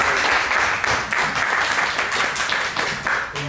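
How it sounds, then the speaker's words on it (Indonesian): An audience at a health talk applauds the doctor who gave it, a dense steady wash of many hands clapping together for a few seconds. "Kita kasih aplaus untuk Dr."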